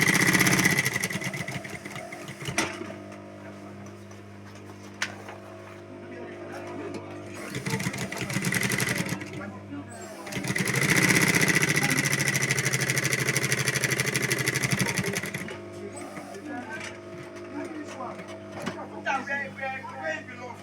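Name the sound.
sewing machine stitching a zipper tote bag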